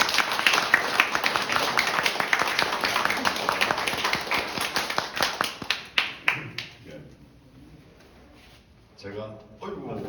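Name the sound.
audience applause welcoming a speaker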